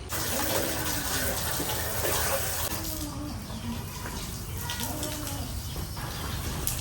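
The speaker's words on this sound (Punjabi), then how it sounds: "ਪਾਣੀ ਦੀ ਪਾਈਪ ਆਪਾਂ ਦੀ ਹੁਣ ਇਹਨੂੰ ਧੋਣਾ ਕਰਦੇ ਸ਼ੁਰੂ" Water gushes steadily from a hose washing out a goat shed, splashing continuously, while pigeons coo faintly in the background.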